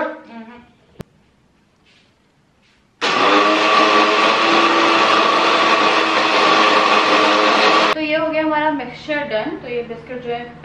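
A kitchen mixer grinder grinds biscuits and sugar, its loud steady motor whine starting abruptly and running for about five seconds before cutting off, with someone talking before and after.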